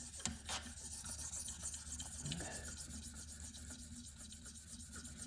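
A Spyderco PM2 knife with S35VN steel is drawn across a 600 grit stone on a KME guided sharpener, making soft, repeated rasping strokes at close range, fairly quiet and with no talking.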